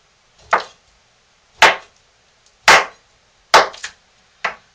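Cutting through a bar of homemade lye soap, five sharp chopping knocks spaced about a second apart, close and fairly loud against silence, the last two coming in quick succession.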